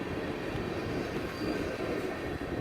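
A train passing close by with a continuous metallic rolling roar and a faint thin wheel squeal above it, steady and unbroken throughout, with no talking.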